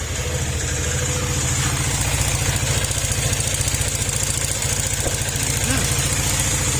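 A rough, noisy Honda ADV150 scooter engine, damaged by running low on oil, idles steadily close by, its rattling putter continuous throughout with a harsh mechanical buzz over it.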